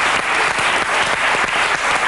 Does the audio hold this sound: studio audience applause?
yes